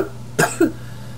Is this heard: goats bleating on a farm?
no